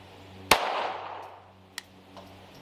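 Single sharp shot from a pistol on a shooting range, a loud close crack followed by a decaying echo, then a fainter click or tap shortly after.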